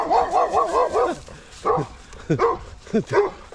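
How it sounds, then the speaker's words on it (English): An angry dog barks at people out walking near Binn Hill Tower in Kinfauns. There is a quick run of loud, close barks and yips with short gaps between them. "Uh-oh, here comes the dog."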